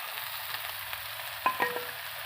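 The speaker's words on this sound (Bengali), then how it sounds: "এখন আমি এতে দেবো মটরশুঁটিগুলো" Green peas added to a hot frying pan with greens: a steady, close sizzle throughout, with a few light clinks and scraping taps near the end.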